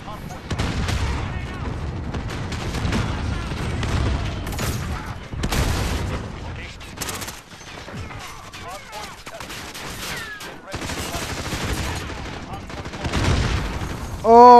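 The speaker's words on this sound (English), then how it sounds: "Oh, why is everything exploding?" Explosions and gunfire erupt in the Modern Warfare video game, repeated booms and bursts of shots in irregular clusters, loud and close, with shouted voices mixed in.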